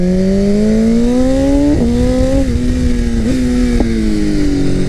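BMW S1000RR sport motorcycle ridden hard, its engine howling loudly and continuously with revs climbing and several quick gear-change dips, close up with wind roar underneath.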